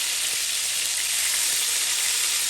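Rohu fish frying lightly in hot oil, a steady, dense sizzle that stays loud and even throughout with no voices over it.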